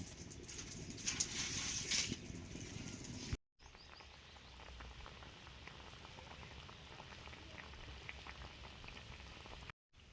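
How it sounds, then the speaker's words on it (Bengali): Shrimp sizzling as a tempering in mustard oil in a kadai, a steady dense crackle and hiss with a louder, brighter spurt of spattering near the start and short breaks, no talking. "এই কড়াতে করছি ফোড়ন চিংড়ি মাছ ফোড়ন দিয়ে তরকারিতে দেয়া হবে"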